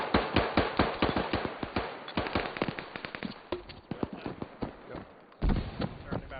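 Distant gunfire pops in rapid, uneven bursts during an airsoft or milsim game, coming from roughly where the helicopters had been, many sharp reports overlapping with occasional heavier thumps, and a voice talks over part of it.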